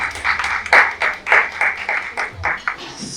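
An audience at an ed-tech education panel claps to welcome the panelists. A cluster of sharp, rhythmic hand claps is heard close and fairly loud, with an irregular beat.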